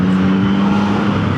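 A 2024 Yamaha MT-09 motorcycle ridden along a mountain road at Genting gives a loud, close, steady engine drone with a strong low hum, sustained throughout the brief stretch with no talking.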